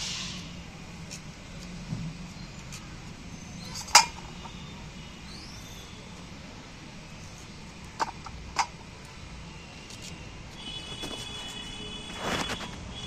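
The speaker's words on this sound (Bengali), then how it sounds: "এগুলো কাটবো নি, গোটা গোটা কাঁটা চামচ দিয়ে কুচিয়ে নেবো একটু।" A fork crushing whole cardamom, cloves and cinnamon in a bowl makes a few sparse, sharp clinks and taps, spaced seconds apart, against a quiet room background.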